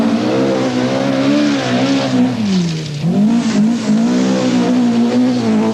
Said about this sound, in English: Swede Bjorn Valdegaard leads another Japanese attack with his Toyota Celica